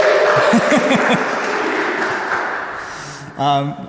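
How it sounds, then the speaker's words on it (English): Audience applause at a choral singing workshop in London, a dense steady clapping wash that tapers off, while voices speak and briefly sing over it near the end. "a big round of applause, please, for Molly"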